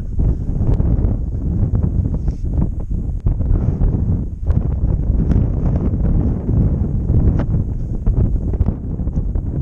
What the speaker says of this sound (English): That wind is something funny, I tell you. It pushes on you